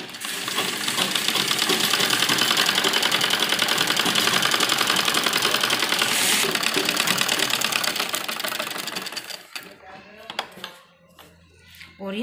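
A sewing machine runs steadily for about nine seconds, stitching the neck of a net lehenga blouse with embroidery, then stops, leaving faint handling noises.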